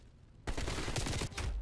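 Gunfire in the Black Ops Cold War multiplayer game erupts after a brief quiet moment, a loud rapid burst of shots filling the remaining second.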